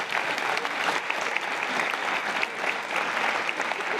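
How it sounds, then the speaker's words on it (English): Audience at a city community meeting applauds its volunteer conversation facilitators: a steady, dense wash of clapping from many hands that holds evenly for the full four seconds. "let's clap it up for them"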